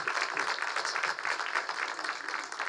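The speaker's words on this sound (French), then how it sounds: "Voilà, on peut l'applaudir," A church congregation applauds together, a steady dense wash of clapping held at an even level throughout, with no talk over it.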